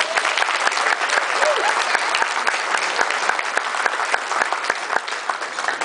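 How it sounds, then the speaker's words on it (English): Wedding guests at a reception applauding the bride's parents, a sustained, even round of many hands clapping with a few louder nearby claps standing out and faint voices beneath. "So, good round of applause for them real quick."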